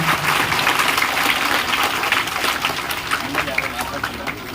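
A school audience claps together in dense, sustained applause at a commemorative event, many hands patting at once for several seconds, fairly loud and close, with no speech over it.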